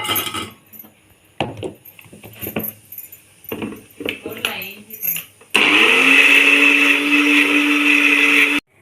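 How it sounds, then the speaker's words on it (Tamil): A mixer grinder blends ginger and garlic into a paste, starting with a loud, steady, continuous whir about midway and running to the end, after quieter intermittent knocks and clatter. "பூண்டு போட்டு ஒரு அரை அரைச்சிக்கலாம்."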